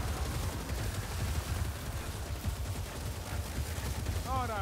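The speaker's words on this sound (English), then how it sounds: "It's a rattling gun." Ratling gun in Warhammer: Vermintide 2, a continuous rattling stream of rapid gunfire through the whole stretch, mid-distance, with faint voices mixed in.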